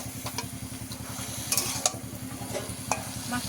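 Bombay duck fish and Malabar spinach stir-fried in a pan, a steady low rhythmic scraping and sizzle with occasional sharp clinks of the spatula against metal, close and continuous with no voices.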